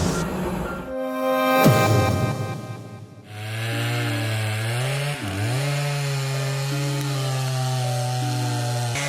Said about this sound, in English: Starting with the felling of giant trees using only a handheld chainsaw and the skilled hands of an experienced worker